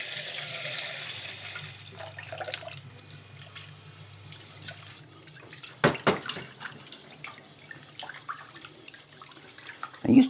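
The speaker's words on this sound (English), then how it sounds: "I wash it with tap water." Tap water runs into a sink while rice is rinsed in a home kitchen, a steady nearby splashing flow with a few clunks and knocks of the bowl toward the end.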